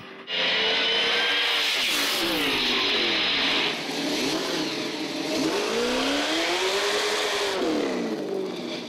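A car engine revs and accelerates as the vehicle drives past nearby, pitch rising and falling, loud and continuous.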